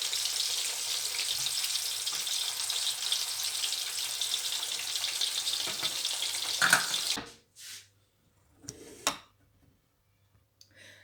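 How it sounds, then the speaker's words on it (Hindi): Potatoes fry lightly in oil for a dry aloo baingan sabzi, a dense hissing sizzle that holds for about seven seconds, then cuts off, leaving near silence with a few faint clicks and knocks. "साथ ही मैंने आलू भी डाल दिए, इनको भी हल्का सा फ्राई कर लेंगे"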